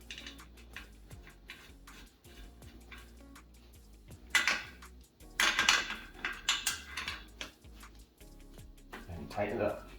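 Metal parts of a Kedsum foldable dolly clink and rattle as the wheel nuts are tightened, a string of close, sharp ticks and scrapes with louder bursts midway and near the end.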